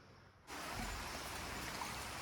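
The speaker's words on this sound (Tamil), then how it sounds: "மழை பெஞ்சிக்கிட்டு இருக்குது நல்லாவே மழை பெய்யுது" Heavy morning rain in the rainy season begins suddenly and keeps falling as a steady, dense hiss close by, with no voices.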